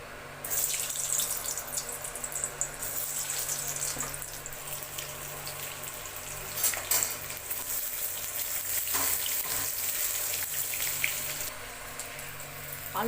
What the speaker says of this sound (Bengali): ওই তেলের মধ্যে আলুগুলো দিয়ে দিচ্ছি।